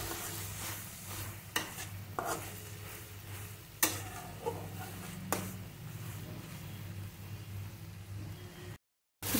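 Tomato, green chilies, chili powder and turmeric being sautéed in a pan for a village-style prawn curry: a soft low sizzle under repeated sharp scrapes and taps of a spatula, ending in a brief dropout.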